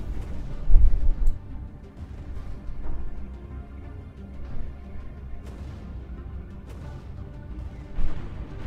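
Space battle explosions in Stellaris: muffled low booms and rumbles at an irregular pace, one louder thump near the start and another near the end, over a dull background roar.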